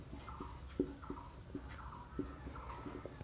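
Writing during a physics lecture on electric dipole potential makes faint, quiet scratching strokes, several short separate taps and scrapes in a hushed room.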